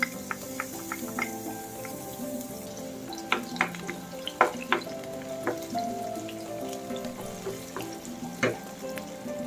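White onion sizzles and crackles in hot olive oil in a pan, with a steady close frying hiss broken by frequent sharp pops and spits.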